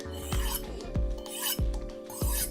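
A Takayuki Damascus santoku knife is honed in a few quick scraping strokes, each a brief rasp against the steel, close and fairly quiet.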